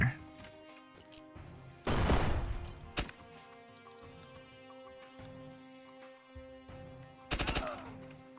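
Flashbang bursts and gunfire in the tactical shooter Door Kickers 2: a loud blast near two seconds, a sharp crack at three, and another burst near the end, over a steady humming game backdrop.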